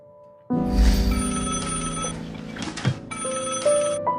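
A telephone rings with an electronic tone, steady and fairly loud, after a brief quiet opening; the ringing carries on throughout.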